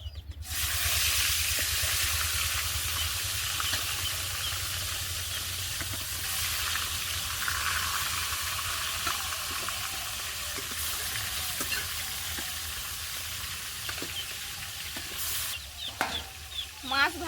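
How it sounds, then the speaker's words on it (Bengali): Pieces of large fish fry in hot oil in a wok, a fairly quiet, even hiss of sizzling that holds steady throughout, with a few faint knocks near the end and no talking. "মাছ ভাজা হতে লাগুক"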